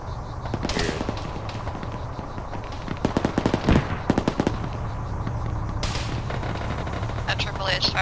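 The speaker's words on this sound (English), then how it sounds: "That AAA is firing at the vehicle" An anti-aircraft gun in a military video game fires at a vehicle. Rapid bursts of shots crackle through constant rumbling battle noise, and voices are heard.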